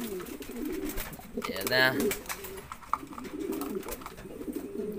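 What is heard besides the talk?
German beauty homer pigeons cooing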